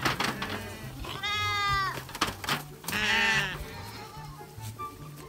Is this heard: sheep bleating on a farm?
yes